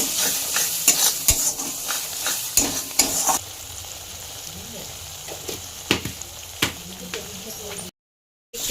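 Spice masala with turmeric, cumin and Kashmiri chili powder sizzles in oil for chana masala while a spoon stirs it, giving sharp scraping strokes that are frequent early and sparser later over a steady frying hiss.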